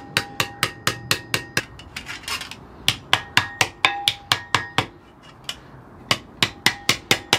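Steady hammer blows strike metal in tinsmith work, a long run of sharp ringing taps in quick rhythm with short pauses between bursts, close and loud, with no talking.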